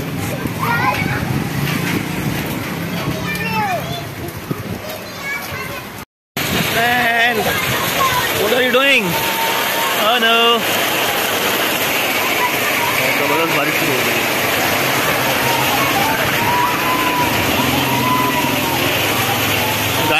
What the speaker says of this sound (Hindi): बाहर बारिश स्टार्ट हो गई है बहुत ज़बरदस्त बारिश हो रही है